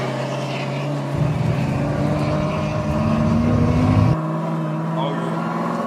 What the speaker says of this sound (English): you're about to hit the track drifting with 640 horsepower